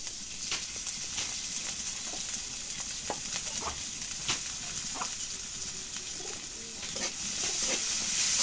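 Hot oil sizzles and crackles steadily in a pan while garlic, green chillies and onion fry for a dish of greens, with scattered sharp pops, heard close and growing slightly louder toward the end, no voices.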